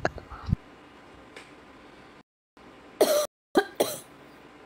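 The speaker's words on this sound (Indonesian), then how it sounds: "Kok batuk?" A few sharp, close coughs in quick succession, following a brief throat noise, with silent gaps in between.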